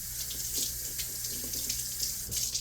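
Tap water runs steadily into a kitchen sink as potatoes are rinsed under the stream, a continuous close splashing hiss with slight surges throughout.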